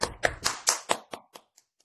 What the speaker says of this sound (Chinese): 就让我们掌声欢迎讲者